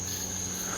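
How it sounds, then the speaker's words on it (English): A giant locust calling in the woods, a steady high-pitched continuous buzz with a low hum beneath, moderately faint and unbroken, with no talk. "There's a giant locust up there."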